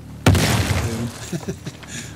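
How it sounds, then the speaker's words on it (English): A sudden loud bomb blast in The Last of Us Part 2 bursts out sharply, then rolls into a rumbling decay with scattered debris crackles fading over about two seconds. "Wait for the explosion."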